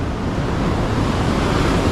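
Ocean waves crash on a California beach, a loud, continuous low surf roar mixed with wind buffeting the microphone, no voices.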